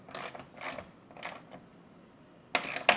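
A ratchet tightens down a storage rack mount on a Jeep Wrangler or Ford Bronco, giving short bursts of clicking with pauses between, close and fairly quiet.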